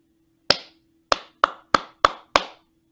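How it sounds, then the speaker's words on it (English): Six crisp hand claps ring out in a rhythmic pattern, one alone then a pause, followed by five quicker evenly spaced claps, each sharp and close with a short decay over a faint steady hum. "I'm gonna clap another one."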